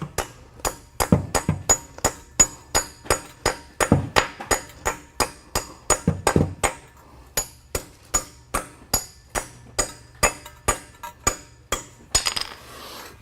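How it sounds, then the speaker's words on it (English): A hammer taps metal pieces to lock them in place for a tool security cage, giving a long run of sharp, evenly spaced close strikes at a brisk steady rhythm. "I have my hammer and I'm basically gonna lock these in place"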